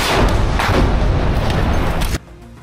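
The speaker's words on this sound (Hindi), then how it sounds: "हमास के लड़ाके सामने खड़े एक टैंक पर आरपीजी दाग देते हैं जिसमें ये टैंक आग का गोला बन जाता है।" An RPG fired at a tank in urban combat in Gaza, heard as a loud, sustained roar of blasts and heavy booming that cuts off abruptly to quiet near the end.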